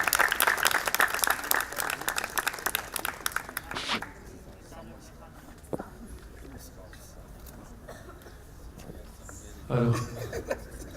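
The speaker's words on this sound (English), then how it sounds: "Please give a big round of applause." An audience at an academic China studies conference claps for about four seconds, dense and fairly loud, then fades to a quiet room with a brief burst of noise near the end.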